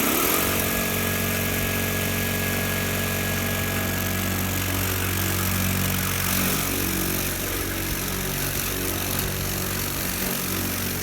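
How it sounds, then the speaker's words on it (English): Electric ride-on lawnmower with its blades spinning, a steady motor whine and rushing hum holding loud and constant throughout, with no talking. "So with my one and only controller spinning the blades, I had to pretend the whole thing was a giant push mower."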